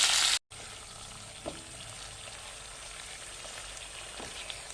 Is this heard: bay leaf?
yes